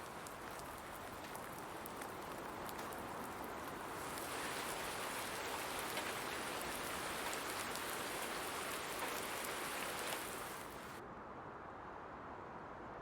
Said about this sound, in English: We got the rain.